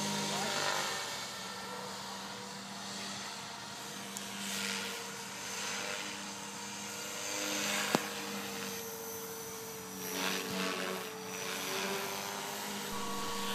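Blade 500X radio-controlled helicopter flying at Horizon Hobby: a steady whirring rotor and motor drone with faint pitch swells, heard at moderate distance with a sharp click partway through.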